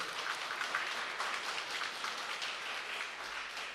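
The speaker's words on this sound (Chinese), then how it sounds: "我们一起来拍手，谢谢他" A church congregation clapping during a Sunday service, an even, steady patter of many hands heard from a distance, soft and continuous.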